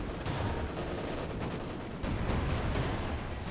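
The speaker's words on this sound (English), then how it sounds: "Field guns opening up, hitting the Yak Panzer." Field guns firing in a Company of Heroes 2 battle, a dense, continuous roar of artillery and gunfire that swells slightly partway through, with no talk.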